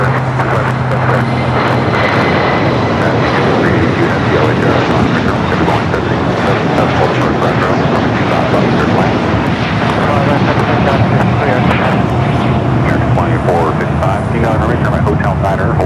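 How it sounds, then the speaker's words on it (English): A United Boeing Dreamliner jet airliner at LAX, holding near runway 25 right after arriving from Newark, produces a loud, steady engine roar that fills the whole stretch. "That is the United Dreamliner that came in from Newark, waiting to cross over 25 right."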